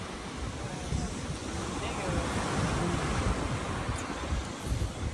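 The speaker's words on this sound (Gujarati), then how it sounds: "અહીંયા આપણે દરિયા કિનારે બેઠા છે" Sea waves on Daman beach wash in with a constant rushing surf, mixed with wind buffeting the microphone, steady and close throughout.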